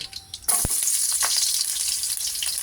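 Chopped garlic drops into a pan of hot oil and bursts into loud, steady sizzling that holds close and constant. A brief clatter marks the moment it goes in, and a few stirring scrapes follow.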